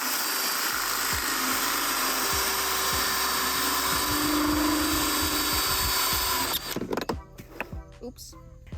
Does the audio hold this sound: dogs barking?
no